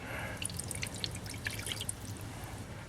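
Water poured for an egg foo young gravy lands in a pan as quiet, irregular splashes and drips, soft and close, with no talking over it.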